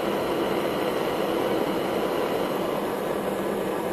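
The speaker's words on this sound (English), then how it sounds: "As the engine speeds up in RPM," A small Stirling engine powering an LED lantern runs with a steady, faint mechanical whir and hiss, holding an even level as it speeds up.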